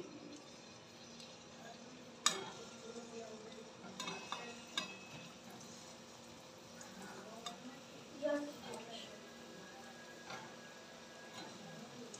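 Palm fruit pitha fry quietly in oil, a soft low sizzle with scattered clicks and taps of a utensil against the pan, one sharper knock early on.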